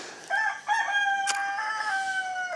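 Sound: rooster crowing

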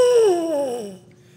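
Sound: baritone horn, a brass instrument, being played

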